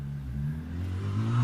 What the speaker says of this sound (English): We've got a kid on a motorbike, and he's a kid. That's the little 125